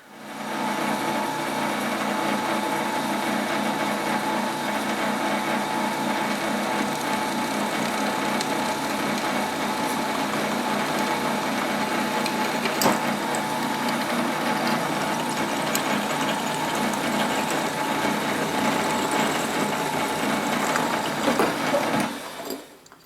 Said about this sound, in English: I'm going to drill and tap some 1/4 threads into two sides of this nozzle holder